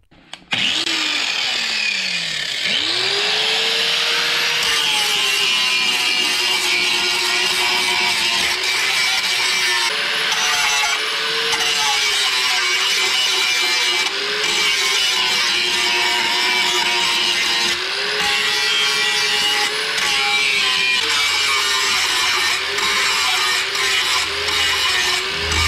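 A Harbor Freight 4-inch angle grinder grinds the metal of a Mercury Sable station wagon's rocker panel: a loud, steady, high motor whine with a harsh gritty edge, holding nearly unbroken for about 25 seconds with slight pitch dips under load.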